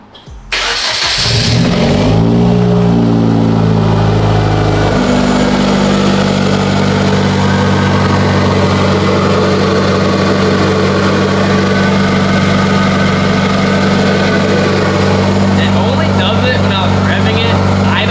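Hyundai Genesis Coupe with a blown engine cranks and catches, revs briefly, then settles into a loud, steady idle as it warms up, heard up close with a voice talking over it.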